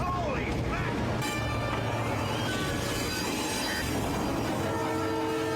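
A train from the 1978 film Superman rumbles loudly with clattering wheels, squeals and a horn blast, while people talk over it.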